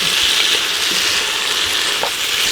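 Red beans and rice ingredients sizzle and fry in a pan, a constant dense crackle held at an even level throughout with no voices.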